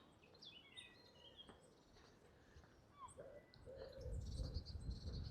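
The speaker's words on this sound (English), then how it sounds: "So much bird activity at the moment in the Undercliff." Several birds chirp and whistle faintly in open coastal shrubland in the Undercliff at Ventnor, Isle of Wight, in April, with a low rumble building toward the end.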